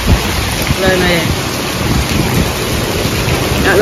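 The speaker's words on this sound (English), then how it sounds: "the rain is too heavy" Heavy rain pours down during Hurricane Beryl in Jamaica, a loud dense hiss with gusting wind and low rumbles, with people talking faintly beneath the downpour.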